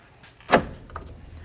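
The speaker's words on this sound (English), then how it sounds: "Now let's go ahead and lock the door." A 1988-2000 Chevy K1500 door lock actuator locks the door with one sharp, close mechanical clunk, followed by a faint softer click against a quiet background.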